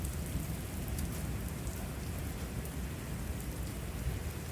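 Heavy rain pours in a steady, dense roar during an intense supercell thunderstorm with strong winds and hail, and a low rumble of thunder rolls beneath the constant downpour.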